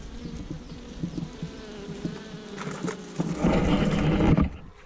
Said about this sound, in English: They sound super duper duper annoyed.